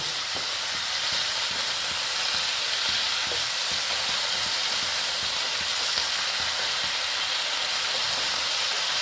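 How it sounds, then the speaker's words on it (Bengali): Potato pieces with turmeric fry in a pan, giving a loud, steady hiss of sizzling oil that runs without pause, with faint stirring beneath it. "দিয়ে এটাকে আমি সুন্দর করে ভেজে নেব"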